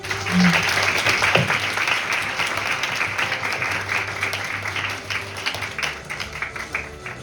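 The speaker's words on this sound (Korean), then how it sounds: "부회장님 나오실 때 모두 큰 박수로 환영해 주시기 바랍니다" A hall audience at a Model UN closing ceremony in Korea breaks into loud applause to welcome a vice president of the UN association of Korea to the stage; the clapping is strong at first, then gradually thins.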